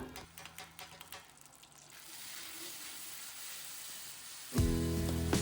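A burst of frying sizzle as ground chili paste hits hot oil, crackling then settling into a steady hiss, then a sharp louder surge of sizzling near the end.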